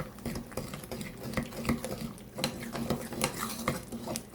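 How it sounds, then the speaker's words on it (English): A spoon mixing flour into pecan pie filling in a bowl, rapid rhythmic scraping and clinking strokes close up at moderate volume, with no talking. "And then the heaping tablespoon of flour. And mix that up."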